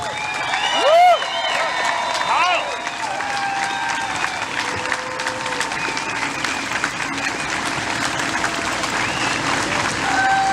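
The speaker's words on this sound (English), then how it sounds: "let's get a round of applause for Kyle Carpenter" A large audience at a South Carolina Tunnel to Towers event breaks into sustained, steady applause with some cheering, filling the whole stretch at even loudness.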